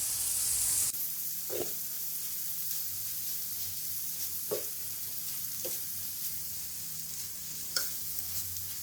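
Keema fries in a pan with chopped and whole green chillies and a little fresh coriander, giving a steady close sizzle broken by a few brief stirring scrapes.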